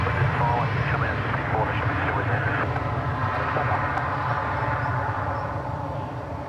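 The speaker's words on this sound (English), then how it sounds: "A little care flight making its way off now." A small care flight aircraft takes off from Adelaide Airport, its engine roaring as a broad, steady drone that eases slightly toward the end, with voices talking over it.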